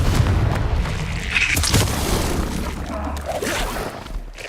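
Fire spell explosion from the video game Hogwarts Legacy, a dense booming burst amid continuous game effects and rumble, steady and loud throughout with no clear speech.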